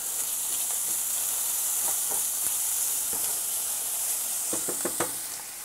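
Onion frying in a pan while brewing a pilsner, a steady broadband sizzle and hiss throughout, with a few soft stirring knocks near the end; no talking.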